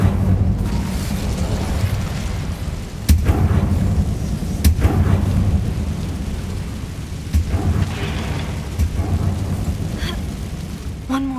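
An Incendio fire spell is cast in Hogwarts Legacy, a loud roaring crackle with booming bursts layered over dense, continuous game ambience.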